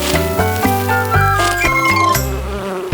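A cartoon bee buzzes in a children's animated show, a steady droning hum that shifts in pitch over bright tonal music, with no talking.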